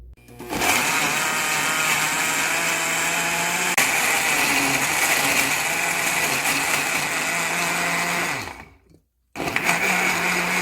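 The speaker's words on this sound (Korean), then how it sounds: "지저분한 거 그거는 믹서기에 한번 갈아줄게요" A blender whirs loudly and steadily, grinding radish and ginger for about eight seconds, stops briefly, then starts up again.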